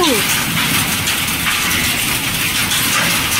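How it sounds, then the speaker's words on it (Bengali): Hail pelts a garden lawn during a storm, a dense, steady hiss of countless small impacts close by. A brief sliding tone sounds at the very start. "দেখুন দেখুন কি পরিমাণ শিল পড়ছে।"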